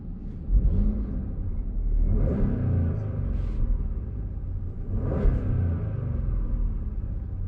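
An Audi A7 engine, stationary, revs hard toward its limiter at about 4,000 RPM, with loud rumbling surges rising and falling twice over a steady idle.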